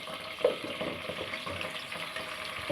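Ginger-garlic paste with black peppercorns frying in oil for sarson ka saag, a steady mid-level sizzle with faint scraping and small bubbling crackles throughout, no voices.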